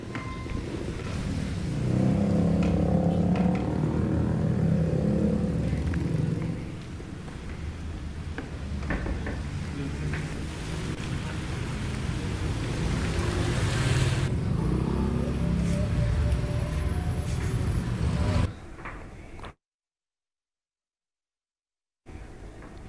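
Busy road traffic of cars, intercity buses and motorcycles in rain, a steady broadband rumble with passing engines swelling and fading, ending in a brief cut to silence.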